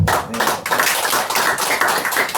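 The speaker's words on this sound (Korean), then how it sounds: "박수로 한번 보내드리죠." Audience applause at a lecture on Buddhist teachings in Korea, a short burst of brisk, fairly loud clapping from a modest group, with no talking over it.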